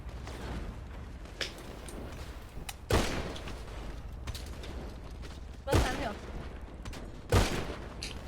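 Sparse, sharp video game gunshot cracks ring out three or four times against a low background hum, with quiet voices in between.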